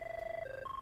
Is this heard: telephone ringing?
yes